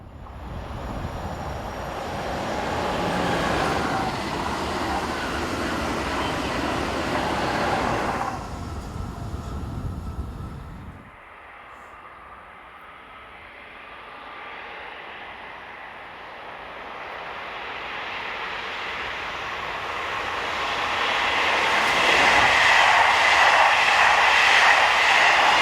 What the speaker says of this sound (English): set number 4712 heads south with a Frankfurt to Marseille Eurocity service